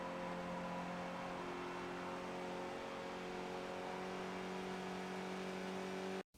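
A Skip Barber race car in iRacing holds a steady, sustained engine drone at Watkins Glen under full throttle, loud and alone, cutting off abruptly at the end.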